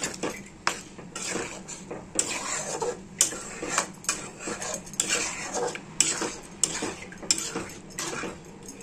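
A spoon stirs tadka in a metal pot after water has been added, making repeated scraping clinks and knocks in a steady rhythm, close and fairly loud, with no talking.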